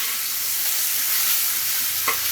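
Large paneer pieces frying in hot oil, a dense continuous sizzle with a faint clink or stir near the end.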